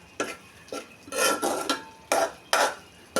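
Spatula scraping and stirring mashed green bananas with spices in a pan for a fried mash, close and loud, coming in about seven short bursts separated by brief pauses, with no talking.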